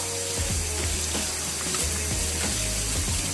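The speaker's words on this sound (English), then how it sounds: "So I'm just rinsing all of this off." Tap water runs steadily as an avocado and vegetables are rinsed under it, making a close, loud, continuous rush with small knocks and splashes of produce being handled.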